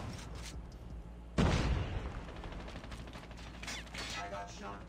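Gunfire in the Call of Duty Mobile shooter game, a sudden loud burst followed by dense, continuous rattling shots and mechanical clatter that carry on steadily to the end.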